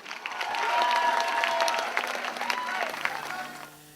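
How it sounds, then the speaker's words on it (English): An audience at a poetry reading gives a short round of applause for a poet, clapping swelling quickly then fading out near the end. "Everybody, round of applause for Nikisha."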